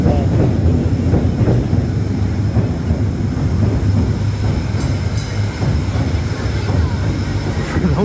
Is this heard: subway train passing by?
yes